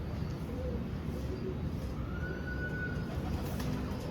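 Pigeons kept by a Dubai fancier coo softly in a low, steady murmur, blended into constant background hiss and low rumble with no clear breaks.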